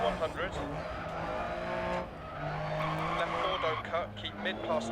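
A Lancia Stratos rally car is driven in the DiRT Rally video game, its engine revving and shifting up and down with tyre noise while someone talks over it.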